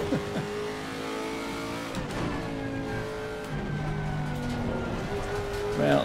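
Race car engine in the racing video game Assetto Corsa Competizione at Kyalami, revving and shifting steadily throughout under a busy mix, with voices talking over it.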